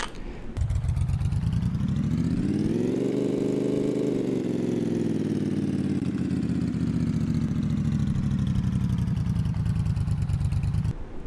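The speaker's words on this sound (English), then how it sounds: "found a sound effect of a motorcycle idling" A motorcycle idling sound effect in an indie video game putters steadily, its pitch sliding up, then gradually drifting back down, synthetic-sounding.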